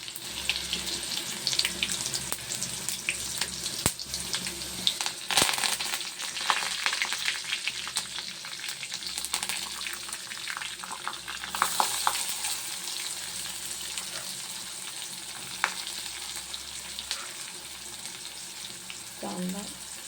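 Cumin, mustard seeds and garlic sizzle in hot oil for a banana bhaji, a continuous hiss broken by sharp crackles and pops, close and unbroken for about twenty seconds with no voices.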